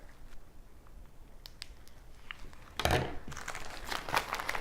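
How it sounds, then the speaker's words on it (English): Ziploc plastic bag crinkling and rustling close up, with a sharper burst of snipping and crunching partway through as scissors cut a small hole in its corner. "I'm going to cut about a 1/2 inch hole out the corner with my scissors here."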